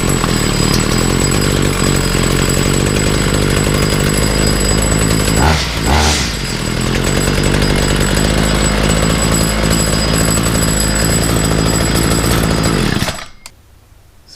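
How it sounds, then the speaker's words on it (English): A Ryobi string trimmer's small gas engine, fitted with a replacement carburetor, runs loud and close with a steady buzzing drone and one brief dip in revs midway, then cuts off abruptly near the end. "Let's see if I can get it to start up."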